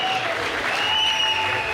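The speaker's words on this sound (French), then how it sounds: "Ça s'applaudit." A crowd at a business success-day event bursts into dense, steady clapping, loud and continuous, with a faint tone running beneath.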